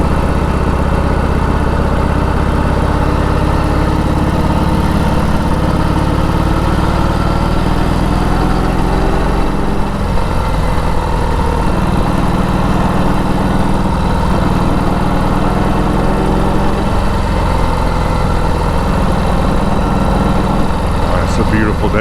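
A 1946 Indian Chief motorcycle engine runs steadily and loudly throughout on a cool, sunny day's ride, a continuous low rumble with no pause.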